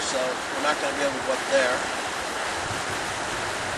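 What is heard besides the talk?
Loyalsock Creek water flowing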